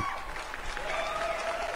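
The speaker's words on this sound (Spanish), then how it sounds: "Acá tengo los aplausos, señores." A canned applause sound effect of a clapping crowd plays as a short, dense burst, with a faint tonal line running through it.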